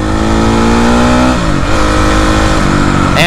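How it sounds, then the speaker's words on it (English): Dirt bike engine revs too high in the RPM range, a loud, close, continuous whine with pitch rising and dipping as the throttle holds near the top before a shift. "I'm gonna let you listen to going too high in the RPM range here"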